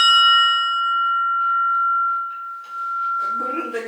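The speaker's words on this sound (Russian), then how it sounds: "Настоящий колокол у нас с рыболовецкого судна. Можно позвонить." A real ship's bell from a fishing vessel rings once with a clear, sustained metallic tone that slowly fades, and voices begin talking over its tail.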